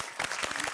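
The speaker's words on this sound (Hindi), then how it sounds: "जोरदार तालियां दीजिए अपने लिए" Applause from residents at the close of a fitness camp in a housing society, a brief patch of scattered clapping, fairly quiet and uneven, with a soft voice-like murmur underneath.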